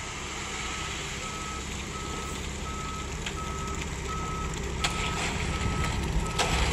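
A concrete truck's backup alarm beeps steadily and evenly at a moderate distance on a construction site, over a constant broadband rumble of engine and outdoor noise.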